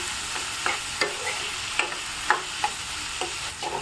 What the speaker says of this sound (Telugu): ఉల్లిపాయ ముక్కల్లో ఇప్పుడు టమాటా ముక్కలు బాగా కలుపుకోవాలండి వీటిని కూడా బాగా మగ్గనివ్వాలి